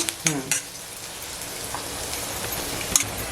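Curry leaves and onion frying over medium heat in an iron wok, giving a steady close sizzle with a few brief clinks and stirring scrapes on top.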